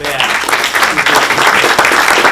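Audience at the Acton Water District annual meeting breaks into a steady round of applause, many hands clapping densely and evenly throughout at fairly close range.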